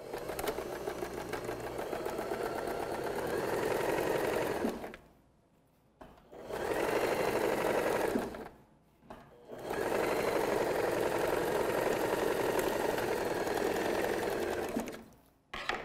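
A sewing machine runs a straight stitch to close the facings of a dress, three long steady whirring runs separated by short pauses, loud and close with no talking.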